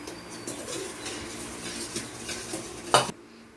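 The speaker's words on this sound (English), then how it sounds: "Now whisk." Egg for cake batter is whisked in a bowl at home, giving faint, repeated scraping and clinking strokes in an irregular rhythm, with one sharper clatter near the end before it stops.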